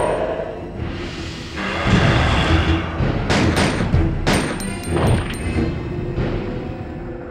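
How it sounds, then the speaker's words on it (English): Ada fires a gun in Resident Evil 2, with a series of sharp close gunshots and some rapid bursts over a rumbling game background, no talk. "Ada is also firing."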